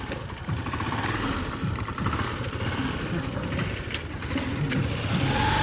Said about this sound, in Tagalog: Paandarin mo muna, tapos subukan mo yung clutch.